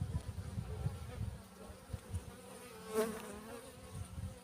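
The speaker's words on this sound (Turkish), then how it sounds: "Bunda arı yoğunluğu var." Honeybees buzzing in a hive in midwinter, a low, uneven droning hum from many bees up close, with faint rustling and handling noises.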